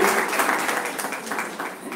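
A brief burst of audience applause at a chess symposium, dense and fairly loud clapping that holds steady for a couple of seconds before easing slightly.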